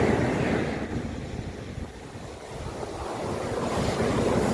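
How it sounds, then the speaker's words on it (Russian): Black Sea waves washing onto a fine-sand beach at Uchkuevka, Sevastopol, in winter, a steady close surf wash with wind noise buffeting the microphone, swelling and easing slightly, no voices. "Черное море. Волночками прямо подбирается поближе."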